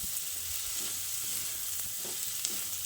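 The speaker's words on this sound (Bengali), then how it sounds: "চিনিটা দিয়ে ভালো করে নেড়ে চেড়ে মিশিয়ে নিয়েছি।" Potatoes frying in a pan after sugar has been added, with a steady close sizzle and a few soft stirring scrapes, no voices.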